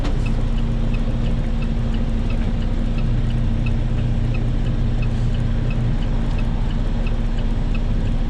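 A truck engine idles with a steady low drone and a faint repeating tick, while a student driver practices shifting gears, with no voices over it.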